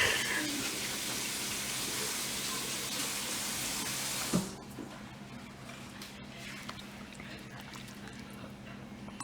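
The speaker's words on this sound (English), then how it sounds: "I'm going to rinse this thing off." Tap water runs steadily as something is rinsed off in a home kitchen while making shrimp stew, a broad continuous hiss for about four seconds that then cuts off, leaving quieter room noise.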